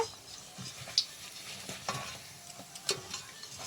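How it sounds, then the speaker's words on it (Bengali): Potato croquettes (aloo chop) fry in hot oil with a faint, steady sizzle dotted with sharp little crackles and pops. The sound is quiet and close, with no voices. "দুই পাশটা দেখো কি সুন্দর একদম ভালোভাবে লাল লাল করে ভাজা গেছে"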